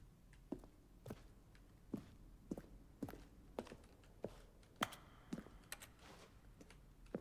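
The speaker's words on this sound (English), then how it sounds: "Each sound is a mix of a keyboard stroke and a synthesized tone." Button sounds from The Stanley Parable, each a keyboard stroke blended with a synthesized tone, repeat as soft, evenly spaced clicks roughly every half second, faint and alone.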